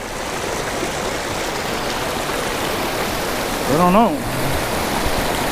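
Onion Creek at McKinney Falls rushes in a steady, full broadband wash of flowing water, with a person briefly speaking partway through.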